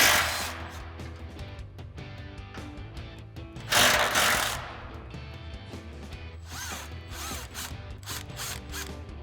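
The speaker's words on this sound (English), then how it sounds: "we're gonna grab our 10mm socket on our impact and go ahead and take this off real quick" A cordless impact wrench with a 10mm socket zips off an exhaust hanger bracket near the flex pipe on a 2021-2023 Ford Bronco, several loud rattling bursts with short pauses, one louder burst near the middle.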